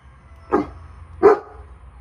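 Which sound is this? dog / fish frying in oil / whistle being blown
dog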